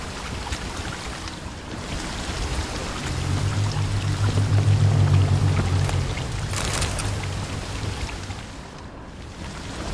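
A waterfall flowing upward in The Witcher 3 gives a steady, broad rush of water, with a low rumble swelling in the middle and then easing, heard alone.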